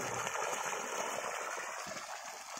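Water gushing from the outlet of a 5hp solar-powered AC motor pump near Anand, Kheda, a loud, steady broadband splashing flow heard close up and continuously, with no talking.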